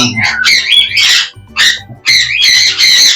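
Albino mask red-eye birds calling in a loft: loud, close, shrill squawks and chattering calls in rapid bursts, with short gaps between them.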